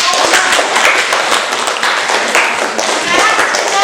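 A class claps for a group of students during a lesson, a dense, steady patter of many hands with taps and a few thuds, lasting the whole stretch, with some voices mixed in underneath.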